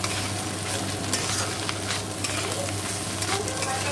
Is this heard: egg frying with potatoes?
yes